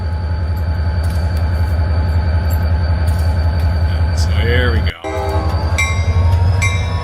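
A large train passing extremely close to a building, a loud, continuous rumbling roar with squealing wheel tones and a brief horn-like blare, and a short spoken remark partway through.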